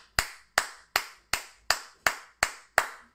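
A congregation claps in a steady, even rhythm during a French-language church service: eight sharp, crisp claps, evenly spaced about every half second, with no talk over them.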